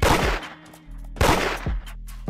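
Gunfire in the Roblox street game Da Hood: two loud, close bursts of rapid shots about a second apart, each with a sharp crack and booming tail, with no talking.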